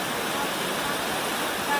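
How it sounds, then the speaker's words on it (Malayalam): A loud, continuous rush of flowing water over rocks fills the air evenly, like a nearby torrent or waterfall, with no breaks. "നല്ല ഭംഗിയിൽ വെള്ളം ഒഴുകി വരുന്നുണ്ട്"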